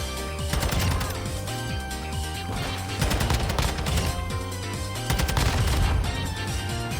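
Rocket launcher and shotgun fire in the video game Modern Warfare 2, heard as dense, rapid bursts of gunfire and blasts that continue without a break and swell in loudness in places.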